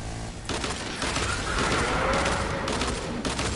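Gunfire in the video game Fortnite erupts in loud, dense, rapid bursts of shots, overlapping almost continuously with brief dips between volleys.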